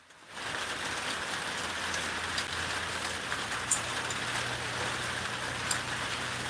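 Heavy rain pouring down outdoors in Koontz, a steady dense hiss of drops on surfaces filling the whole stretch, loud and unbroken with a low rumble underneath, no talking.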